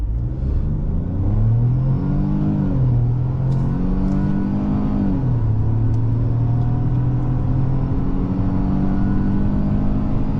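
A 2022 Ford Escape S accelerates hard from inside the cabin, a loud steady engine drone climbing in pitch through several gear changes with brief dips between shifts, and no talking.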